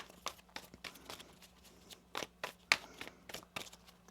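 Tarot cards are shuffled by hand at close range, quiet papery riffles and flicks coming in irregular bursts with a few sharper snaps against near silence.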